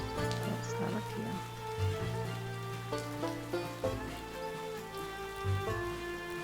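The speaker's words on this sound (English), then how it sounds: "It's going to rain on my head." Rain in the fantasy farming game Swords 'n' Magic and Stuff patters softly and continuously beneath a gentle, tonal game melody, faint and unbroken across the whole stretch.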